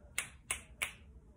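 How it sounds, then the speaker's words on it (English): Three crisp finger snaps ring out at an even pace, close and fairly quiet against a near-silent background. "keep snapping your fingers."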